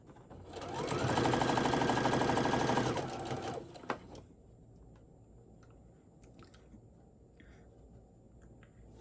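Sewing machine stitching two fabric pieces of a handmade bear body together, a loud, close, rapid mechanical whir running for about three seconds, then a click and quiet handling noises.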